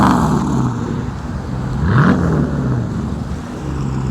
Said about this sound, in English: One more rev, bro, one more.